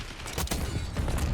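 Gunfire from a first-person shooter in Black Ops 6 sounds as a few quick shots in a short, dense burst, fairly loud against a busy game background.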